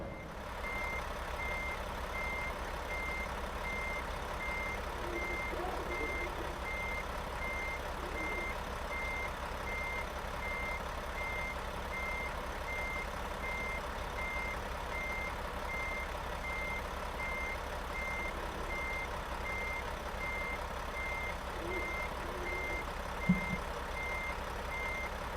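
Steady electronic reversing beeps repeat at an even pace from an American Truck Simulator truck backing a long trailer, over a constant low engine drone at moderate level with no talking.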